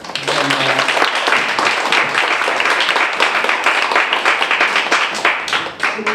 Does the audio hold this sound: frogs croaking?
no